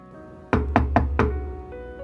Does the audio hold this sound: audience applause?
no